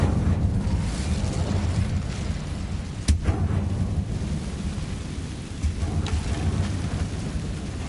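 The Incendio fire spell cast in Hogwarts Legacy: a dense, roaring whoosh of flame with rumbling, crackling bursts, one sharp crack standing out near the middle, sustained and fairly loud with no voices.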